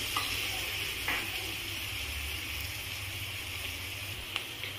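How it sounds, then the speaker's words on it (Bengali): Onion and garlic frying in a pan with a touch of salt give a steady close sizzle throughout, with a few brief stirring scrapes and no speech. "অল্প লবণ দিয়ে আমি ভাজা ভাজা করে নেব"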